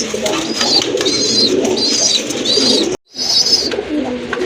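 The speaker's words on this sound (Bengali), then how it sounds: "অনেক বড় সাইজের এক জোড়া কবুতর। এটা হচ্ছে শ্যাডেল গোল্লা কবুতর না ভাই?" A pair of large Shadel Golla pigeons coo in repeated soft, throaty phrases, about six close calls in a steady rhythm with a short silent gap near the end, no talking over them.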